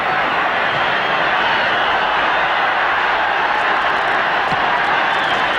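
Football crowd at a 1972 First Division match, a dense steady roar of many voices with whistles and shouts rising throughout, loud and continuous with no speech over it.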